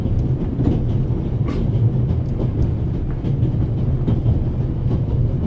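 Train in the video game The Raven rolling along the rails, a steady low rumble with faint rhythmic clicks from the wheels, heard from inside a carriage and continuous throughout.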